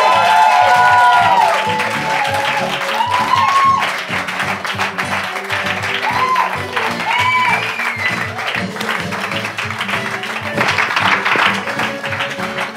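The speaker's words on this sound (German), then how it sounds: "Bitte einen herzlichen und riesigen Applaus" Studio audience at a German late-night talk show applauds for arriving podcast guests, a dense, sustained wash of clapping with some cheering that stays loud throughout, fading slightly midway.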